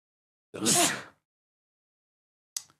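One loud, close sneeze bursts out, followed after a pause by a brief sharp sniff or breath.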